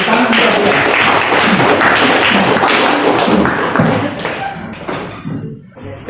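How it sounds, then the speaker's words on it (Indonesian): Students in an Indonesian classroom clap for a classmate, a loud burst of close hand clapping with thumps and taps that thins out and fades over the last couple of seconds. "Tepuk tangan buat dia."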